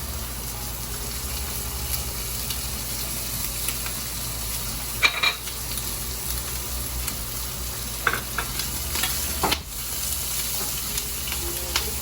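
Christmas ham frying in plenty of hot oil, a steady dense sizzle running throughout with a few brief clatters and scrapes of stirring, close and moderately loud with no talking.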